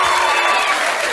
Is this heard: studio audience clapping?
yes